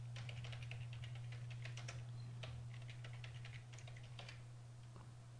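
Soft keystrokes patter steadily on a computer keyboard, faint and somewhat distant over a constant low electrical hum, with no talking.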